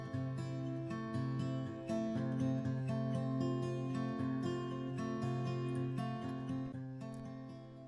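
Looping intro section of an interactive video game track, built in FMOD: quiet, steady layered melodic tones with a repeating pattern of sustained chords and plucked notes, heard alone.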